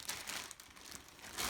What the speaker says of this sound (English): I'll take an extra plastic bag.